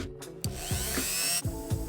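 A small polishing machine whirs close up on a vintage Orient watch, its motor pitch rising and falling in short bursts as it presses and lifts against the hard surface.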